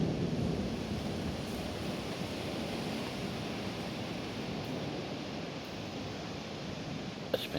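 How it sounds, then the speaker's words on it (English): Long rolling thunder in the most electrically active storm region, a steady, broad rumble that continues unbroken and fairly loud, with a faint sharp crack near the end. "Just like this rolling thunder you're hearing,"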